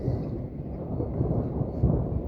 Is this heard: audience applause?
no